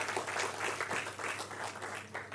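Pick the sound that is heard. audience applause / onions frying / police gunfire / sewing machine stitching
audience applause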